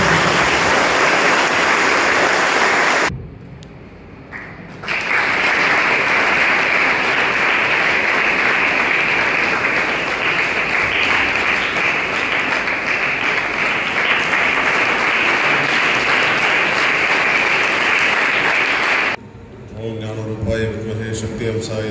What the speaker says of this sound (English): So you can just give a big round of applause and welcome